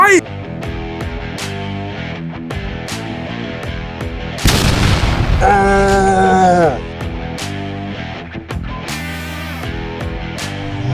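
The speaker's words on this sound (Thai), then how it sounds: "ระเบิดไฟ" Fire explosion attack effect in a Gacha Life animation: a sudden loud burst of booming noise midway, followed by a bright ringing magical tone, set among music and dialogue before and after.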